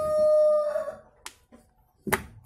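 Chickens kept at a house are heard in the background as a faint rooster crow fading out, followed by a couple of short sharp clicks or clucks.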